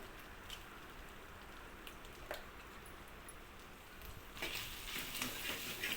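Mutton pieces coated in chili powder, salt and masala fry in a pan on a low flame, giving a faint, steady sizzle with scattered pops that grows a little louder near the end.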